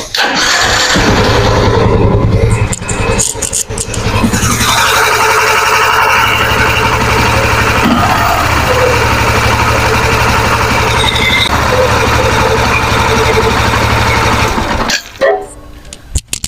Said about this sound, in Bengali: ইঞ্জিনের সাউন্ড মানে বর্তমান যে অবস্থায় কিরকম আছে না আছে ওটা আমি আপনারা দেখানোর চেষ্টা করবো।